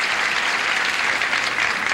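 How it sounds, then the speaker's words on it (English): Steady, dense applause from a studio audience at a 1978 television game show, loud and continuous, with no talking. "Applause. Applause, applause,"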